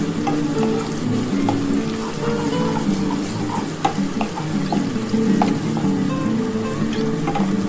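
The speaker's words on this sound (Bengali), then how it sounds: "দেখো পেঁয়াজটা আর রসুনটা ভালো করে ভাজা হয়ে এসছে।" Onion and garlic frying in a pan for a beetroot mash, a steady close sizzle with faint stirring and scraping ticks throughout, no voices.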